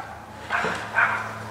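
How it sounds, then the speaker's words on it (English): A dog gives two short barks about half a second apart, faint and somewhat distant over a quiet background hum, with no talking. "There's a dog barking."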